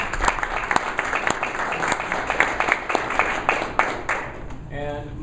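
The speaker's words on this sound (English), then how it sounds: "a quick round of applause for everybody that participated today" Audience applause at a community meeting on trust with law enforcement, a short burst of scattered clapping that fades out near the end, with speech-like sounds mixed in.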